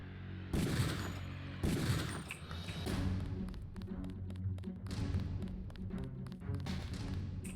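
Gunfire in the video game Deus Ex: two heavy, booming shots, then a rapid irregular run of sharp cracks and thuds, loud and close, with no talking.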